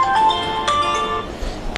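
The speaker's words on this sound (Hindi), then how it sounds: "कोई फोन आ रहा है भाई इसको" A phone ringtone plays during a Hindi-English physics lecture on circuits, a short bright melodic tone sounding faintly over room noise with no talking over it.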